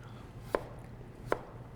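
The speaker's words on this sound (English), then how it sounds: "I'm going to start chopping up some ginger" Two crisp knife chops on a cutting board as ginger is sliced, spaced under a second apart, fairly close and clear over a quiet room hum with no talking.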